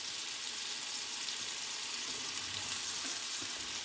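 An apple crêpe cooks in a frying pan with a soft, even sizzle and faint crackle, steady and fairly quiet, with no one speaking.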